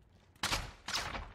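Two loud bursts of pistol fire in Warzone, about half a second apart, each a sharp crack with a short decaying tail over quiet game background.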